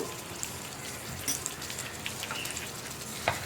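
Soft, steady sizzle of a grape pickle mixture being sautéed and stirred in a pan, with faint crackles and occasional small clicks over a continuous low hiss.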